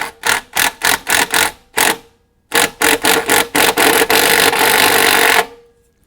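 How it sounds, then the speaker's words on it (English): An impact wrench removing rusty water pump studs on a GM Ecotec 2.2L engine, loud close rattling bursts in a quick series of short hits, a pause, then more hits ending in one long sustained run. "I'm going to get this guy off with an impact wrench"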